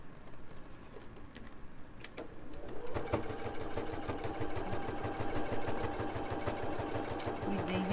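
A sewing machine stitches fabric scraps for patchwork placemats, starting with a few slow stitches, then running in a fast, even mechanical rhythm of needle strokes; light handling noise, no talking.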